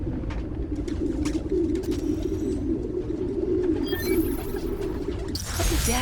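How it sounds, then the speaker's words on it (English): A group of pigeons coos continuously in a park, a low steady murmur from many birds close by, with faint chirps and a brief rustle near the end. "Place was swarming with pigeons."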